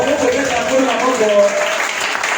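A church congregation applauding and cheering at a French-language service, a dense, sustained wash of clapping and voices that stays steady throughout.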